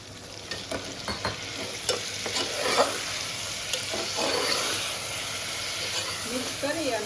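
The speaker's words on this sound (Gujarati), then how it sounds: "એમાં થોડું પાણી નાખી દઈશું." Stuffed parwal in its spiced masala sizzles in a pan as a little water goes in, giving a close, bubbling hiss with clattering stirs and scrapes that keep up throughout.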